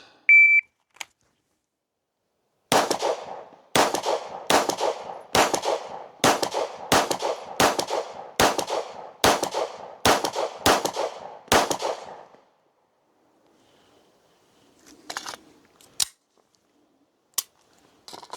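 A rapid string of about a dozen loud, sharp handgun shots rings out on a shooting range, fired at a target in quick, even succession over roughly ten seconds, followed by a few scattered quieter sounds.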